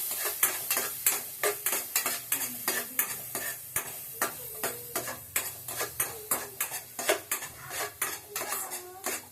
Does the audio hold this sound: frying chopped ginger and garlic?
yes